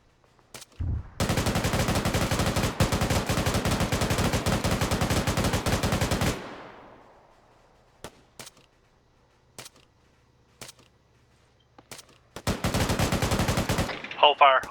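Automatic weapons fire in the video game Arma 3: long sustained bursts of rapid gunshots, a lull of scattered single shots, then another heavy burst, loud and close.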